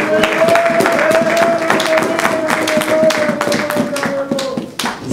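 Church congregation clapping together to acclaim the Lord during a French-language service, a dense steady burst of many hands under a sustained sung or shouted tone, loud and continuous for about five seconds.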